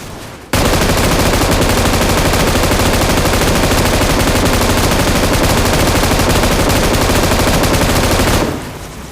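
Sustained automatic gunfire in the mobile battle royale game PUBG Mobile, a dense unbroken burst of rapid shots lasting several seconds, loud and close.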